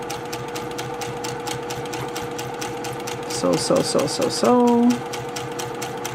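Sewing machine stitching a quilt-as-you-go block, fabric fed edge to edge under the presser foot; a steady mechanical whir runs through, with a brief faster burst near the end and a short spoken word over it.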